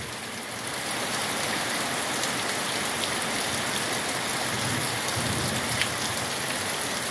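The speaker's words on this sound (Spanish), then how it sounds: "Aquí les estoy enseñando pura lluvia, nada de milpas ni nada de... Pura lluvia, pura agua." Heavy rain pours steadily on a ranch in El Limón, a dense, continuous hiss of drops on surfaces that holds at an even, loud level throughout with no voices.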